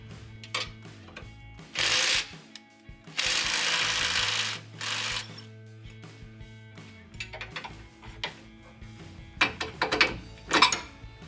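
Ratchets and 21 mm wrenches working on the front track bar of a Jeep Gladiator JT give repeated close clicking and loud whirring bursts, with clanks in between and no talk.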